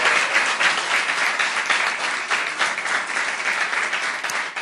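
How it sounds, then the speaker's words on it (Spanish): A large crowd applauds Ecuador's vice president, engineer Jorge Glas Espinel, at an official public report event, with dense, even clapping that holds at a steady loud level for the whole stretch. "un fuerte aplauso para el ingeniero Jorge Glass Espinel"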